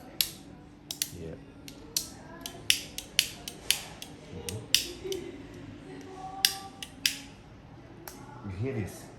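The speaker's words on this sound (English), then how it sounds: "You hear these clicks?" A handmade Swiss Army Knife being tested in a Swiss workshop gives off sharp, crisp clicks from its mechanism, over a dozen spaced irregularly across the stretch, close and distinct against a quiet background.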